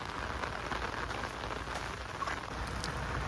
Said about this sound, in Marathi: पाऊस पडतं भरपूर